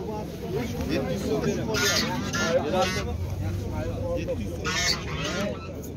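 Noisy poultry market scene with ducks honking and quacking repeatedly amid overlapping voices of people talking nearby.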